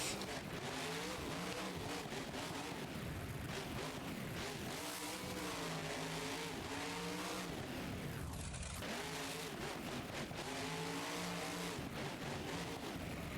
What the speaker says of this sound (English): This thing sounds so good with both engine sounds mixed together like that.